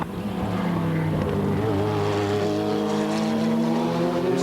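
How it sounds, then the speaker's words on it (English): A TVR race car's engine grumbles steadily at a 1997 BRDC GT race at Croft, a deep, loud, continuous drone whose pitch slowly rises as the car accelerates. "the grumbling TVR makes its presence heard"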